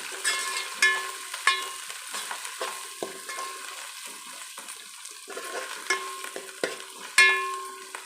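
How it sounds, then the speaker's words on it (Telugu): Turmeric being stirred into ginger already fried in oil in a pan while cooking okra charu, giving a soft continuous sizzle with repeated scraping and stirring knocks at an even, close-up rhythm and no voices. "ఇప్పుడు మనం కొంచెం పసుపు వేసుకున్నాం. దీంట్లో కొద్దిగా కలుపుకొని"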